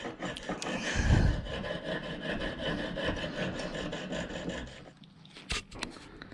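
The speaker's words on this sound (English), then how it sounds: "We're just going to try to saw off the excess." A hand saw cuts through excess scrap copper on a handmade ring in continuous rasping strokes, close and moderately loud, ending with a few sharper knocks.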